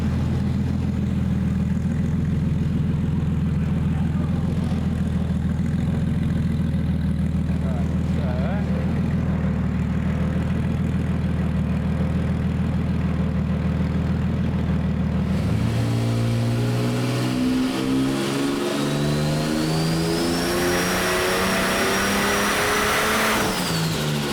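A turbocharged Ford Falcon AU on a dyno drones steadily, then its engine revs hard and rises in pitch with a climbing turbo whistle, loud and close, with people talking underneath.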